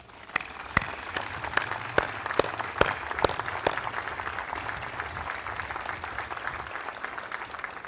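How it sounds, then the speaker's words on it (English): A round of applause for Team Brito at a US Army TRADOC gathering, with a few sharp, sparse claps at first that settle into a steady, moderate patter of clapping. "I'd like a big shout out here and a round of applause for Team Brito"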